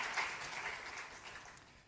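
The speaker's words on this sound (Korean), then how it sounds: "박수로 감사하겠습니다" A church congregation in a Korean Sunday worship service gives a round of thanks with applause, a soft, diffuse patter of many hands that slowly fades.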